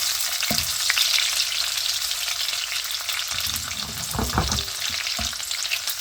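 Almonds and similar nuts frying over a low flame in a pan for halwa, giving a steady close sizzle with occasional stirring scrapes and bursts of crackle, no voices.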